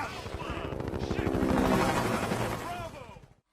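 Gunfire in a war movie scene set in a jungle, rapid rattling bursts of shots layered with a helicopter-like rumble, loud and dense before cutting off abruptly.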